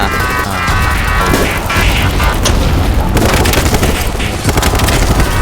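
Loud, continuous combat noise from the video game BattleBit Remastered, with heavy booming grenade blasts and crashing impacts, dense and unbroken throughout.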